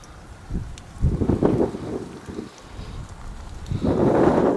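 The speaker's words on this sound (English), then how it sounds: "So that was wind. The wind blew them then." Gusting wind outdoors in an old cemetery, rising in rough surges that buffet the microphone, strongest near the start and again toward the end, with no talk over it.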